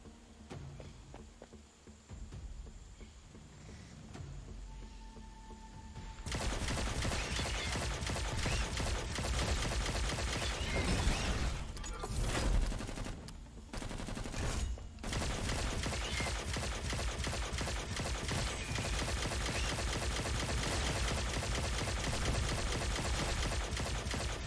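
An automated turret in the top-down action roguelike ANVIL opens fire after a quiet start, unleashing a dense, continuous barrage of rapid gunshots that stays loud with only brief breaks.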